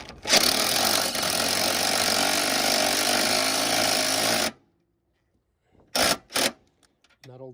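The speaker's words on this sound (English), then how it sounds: "It's better if we use the drill." Power drill running on bolts of a 2012 Toyota Prius engine during a head gasket job, a loud continuous whir for about four seconds, then silence and two short bursts near and close.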